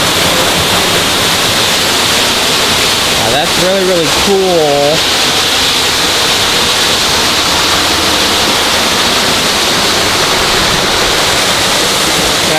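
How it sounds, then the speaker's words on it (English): A small waterfall in the tiger habitat at San Diego Zoo Safari Park pours in a steady, loud, close rush of water throughout, while a person speaks briefly over it. "I'm gonna go behind this little waterfall here"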